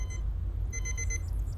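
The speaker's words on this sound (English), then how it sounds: "An old-fashioned alarm tone goes off" An old-fashioned alarm clock tone goes off in a quick run of evenly spaced high beeps over a low steady hum, brief and clear.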